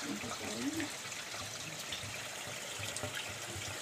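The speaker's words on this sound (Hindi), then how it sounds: "ये देखिए यहाँ से पानी जा रहा है" Water trickles from a village spring into a pipe in Chamoli, Uttarakhand, a faint, steady outdoor dribble with soft, uneven splashing, low in the mix.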